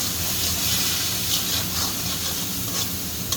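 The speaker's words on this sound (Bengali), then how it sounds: "এবার আস্তে আস্তে করে আমি এই মশলাটা কষিয়ে নেব" A masala of ginger-garlic paste, chili and turmeric fries in a pan for a hilsa fish and ash gourd dish, producing a constant, even, hissing sizzle that stays close and steady throughout, with no talking.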